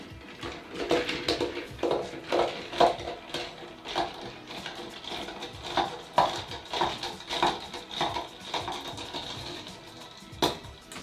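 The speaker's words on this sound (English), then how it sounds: "And now we'll give it a little stir." Cuba Libre cocktail with Bacardi rum being stirred in a glass, a run of light clinking and tapping strikes coming in irregular bursts, fairly close and fairly quiet, with no voices.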